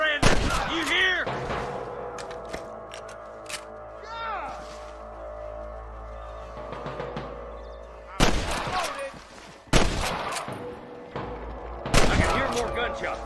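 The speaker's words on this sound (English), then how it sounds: "More gunshots." Bursts of rapid gunfire crack out in clusters in the video game Red Dead Redemption, with loud separate shots later, while voices talk between them.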